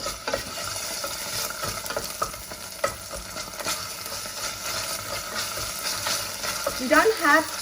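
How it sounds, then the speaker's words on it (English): Tofu and spinach stir-fried in a pan with green curry paste, a loud continuous sizzle with repeated scraping and clinking of a utensil, heard up close, and a brief voice near the end. "You don't have to stir fry for too long."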